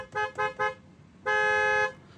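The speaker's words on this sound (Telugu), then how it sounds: "హారన్ చూడండి, నేను ఆపుతున్నా." Horn of a 2018 Honda WR-V car, sounded up close in three quick short toots followed by one longer sustained blast.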